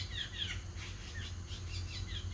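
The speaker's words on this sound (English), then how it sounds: "These little birds are so noisy." Small birds chirp outdoors in quick, repeated high tweets through the whole stretch, fairly close and steady over a low background hum.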